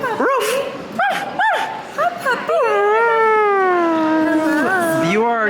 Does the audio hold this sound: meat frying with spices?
no